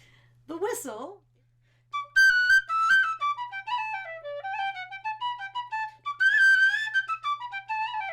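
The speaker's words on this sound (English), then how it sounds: "The whistle" Tin whistle with no keys, played solo in a music studio: a clear, bright melodic line of sustained and ornamented notes, with a brief breathy attack early on and a short pause before the tune continues.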